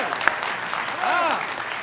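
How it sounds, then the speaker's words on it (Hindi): Live audience applause at a Hindi political satire show, a short burst of crowd clapping mixed with background voices and some tonal music. "ताली बजाओ तो ढंग से बजाओ जरा"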